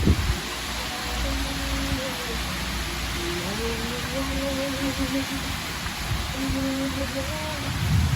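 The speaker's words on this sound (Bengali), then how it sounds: "ও কি বৃষ্টি আজকে" Steady rain falls across a garden, a dense continuous hiss holding at an even level throughout, while a voice talks over it.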